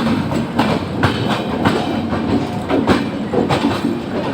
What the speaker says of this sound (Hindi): वो जो ट्रेन है प्रतापगढ़ से आ रही है और वो भी दिल्ली जाती है